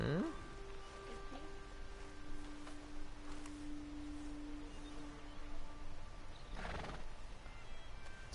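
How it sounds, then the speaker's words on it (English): A horse in the Red Dead Redemption 2 video game gives a clear whinny at the start, with hooves clopping through the rest and game ambience and music underneath, and a voice talks in places. "Small horse."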